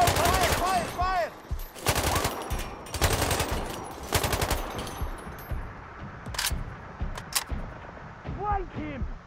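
Rapid automatic gunfire and sharp single shots from the Sniper Ghost Warrior Contracts video game in the Altai Mountains, firing in loud bursts through the first half, then sparser reports with voices talking over the action.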